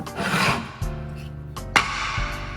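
A shop towel wipes wood stain onto sanded wood in a couple of brief, close rubbing strokes over a low background hum.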